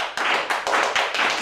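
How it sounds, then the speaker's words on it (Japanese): A live-stream audience claps hands in a steady rhythm, four loud, dense bursts of many hands about every half second, close and continuous with no talking. "あ、もう手拍子ちょっと欲しいですね。"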